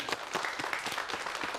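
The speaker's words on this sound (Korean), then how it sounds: "박수 한번 쳐주세요." Short burst of audience applause at a startup-founder talk, dense steady clapping from a seated crowd for under two seconds.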